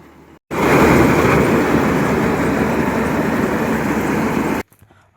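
A new chain-track harvester starts cutting a crop in the field, a loud steady engine and machinery roar beginning abruptly and holding constant for about four seconds before cutting off.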